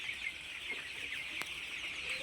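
Chickens on a poultry farm cluck softly in the background, a faint, steady murmur of many birds with an occasional single cluck rising above it.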